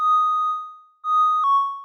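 A Transmutator synth preset plays a clean, bell-like sustained tone that fades out and then sounds again, slightly bending in pitch near the end; bright, isolated and close, with no other sounds.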